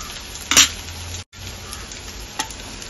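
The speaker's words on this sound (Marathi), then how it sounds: "सुकं खोबरं आहे, जास्त वेळ लागणार नाही भाजायला." Dried coconut and reddened onions roasting in a pan, giving a steady soft sizzle with a stir scrape and clatter near the start, a brief drop to silence, then quiet frying resumes.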